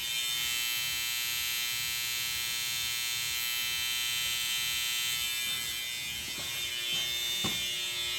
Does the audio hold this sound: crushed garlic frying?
no